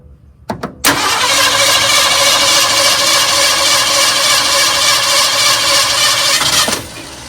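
An old abandoned Ford F100 truck engine cranks after a couple of brief starter clicks, then turns over loudly and steadily for about six seconds before cutting off, with no talking.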